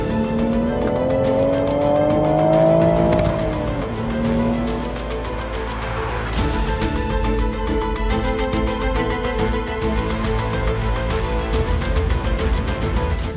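A Toyota GR Supra's inline-six engine revs and climbs loudly, then drops and roars on through a mountain setting, with tire squeal and a rising and falling engine note over continuous close driving noise.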